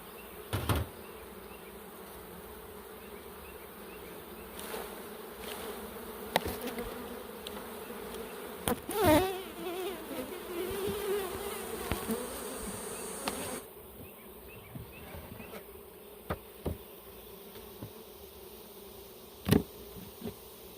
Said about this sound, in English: I'm going to shake the bees off and put this in the other one.